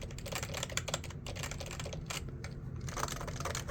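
Rapid typing on a BTC 5139 keyboard with dome and slider switches, a dense run of close, crisp key clacks at a steady pace with no talking.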